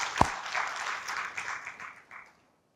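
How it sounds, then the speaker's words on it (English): A short round of audience applause for the crew at a graduate student orientation, with moderate clapping that thins out and stops after about two seconds. "And can we offer a round of applause to the crew for getting it all arranged today?"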